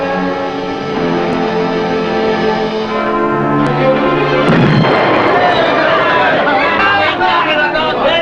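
A warship's guns fire on command during a naval engagement in a TV drama, sharp booming reports mixed with crew chatter and background music.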